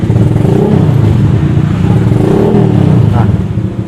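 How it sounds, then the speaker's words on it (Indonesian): A Honda Vario 125 scooter fitted with an open looper exhaust runs close by with a thick, steady low rumble and gentle throttle blips, fading slightly at the end. "Oke, kita ketarik gas sedikit."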